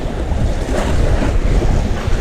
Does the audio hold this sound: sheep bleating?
no